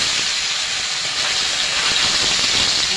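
Cubes of paneer frying in hot oil in a vegetarian kitchen give a steady, dense hiss throughout, close and moderately loud, with no talking.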